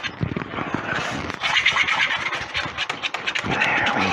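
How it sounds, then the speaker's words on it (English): A whisk scraping and stirring cheese into cream in a pot for cheddar ale soup, quick rhythmic scratchy strokes close up with a few metallic knocks against the pot. "Just keep on stirring and keep on whisking"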